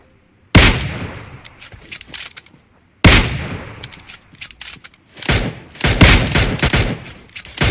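Loud bursts of rapid sniper gunfire crack out in several volleys in a video game, separated by short pauses, with a close-up sound.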